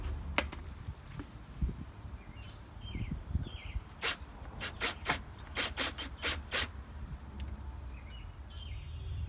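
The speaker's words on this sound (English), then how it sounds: "I'll use the two included screws to screw it in place." A post cap is fastened onto a post with small included screws, giving a series of sharp, close clicks and squeaky turning sounds in quick bursts against a quiet outdoor background with faint birds.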